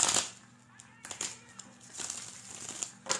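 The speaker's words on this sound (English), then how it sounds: "Let's shuffle this deck two more times" A tarot card deck is shuffled by hand, giving crisp papery riffles and snaps in uneven bursts, close and fairly quiet with short pauses between them.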